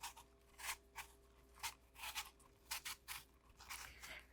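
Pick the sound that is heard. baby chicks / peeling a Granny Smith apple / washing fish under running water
peeling a Granny Smith apple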